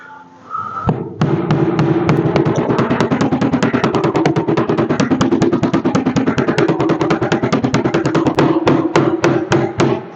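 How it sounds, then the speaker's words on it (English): A rapid run of loud metallic hammer blows on an aluminum Audi car door panel, dozens of sharp strikes in quick, steady succession after a brief quiet start, the hammer bouncing off the metal. "See how much the hammer just kind of bounces off of that?"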